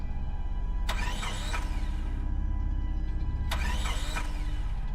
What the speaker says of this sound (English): I turned the key and my heart sank as the engine failed to start